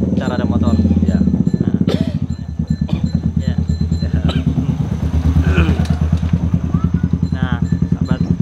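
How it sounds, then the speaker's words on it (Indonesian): A motorcycle engine rumbles and idles nearby beneath continuous loud talking. "kita mendengarkan bahwa di sini ntar ada motor"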